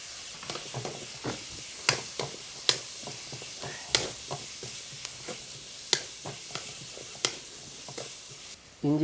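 Onion and curry leaves sizzle in hot oil with a steady frying hiss, punctuated by regular sharp clicks and pops as the pan is stirred, close and moderately loud.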